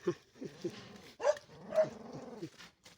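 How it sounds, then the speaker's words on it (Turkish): Young puppies, about eighteen days old, give small growls, whimpers and yips in a quiet close-up, several short bursts in a row with no talk. "Bak hırlamaya da başlamışlar"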